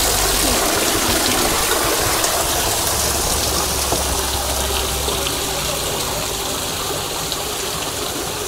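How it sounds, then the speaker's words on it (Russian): A green, algae-covered park fountain with fish in its pool splashes loudly and continuously up close, a dense, steady rush of falling water with no voices. "Вот такой классный фонтанчик"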